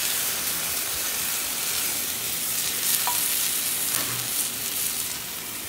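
Cornstarch slurry and juices stirred into a chuck roast pan, giving a steady, close sizzle with soft scraping and occasional bubbling pops, with no voices.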